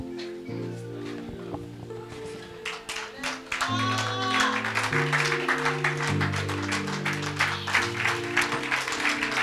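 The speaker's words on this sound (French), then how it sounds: "Moi, je suspecte cette acclamation." A church congregation claps during a service after rising for prayer, with steady sustained applause under sung or sounded tones and some voices throughout.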